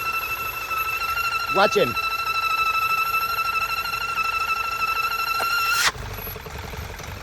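A VW 2.0 TSI engine with a faulty PCV valve gives a steady, high whistling whine over its idle, then the whine cuts off abruptly near the end; a voice briefly speaks.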